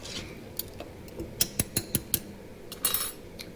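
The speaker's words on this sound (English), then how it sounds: "Add my eggs. Stir it all in." Metal spoon clinks and scrapes against a pot while eggs are stirred into a Cajun shrimp boil with corn and seasoning juice, a run of sharp close taps in quick succession.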